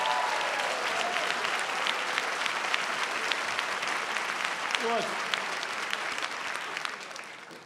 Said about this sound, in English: let's give the young people who are here a round of applause